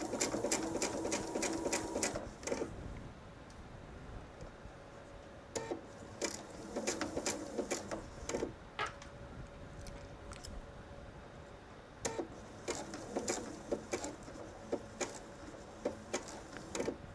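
A sewing machine stitches a purse strap, its fast mechanical chatter running in several short bursts separated by brief pauses, with sharp clicks and ticks between runs; fairly quiet and close, with no talking.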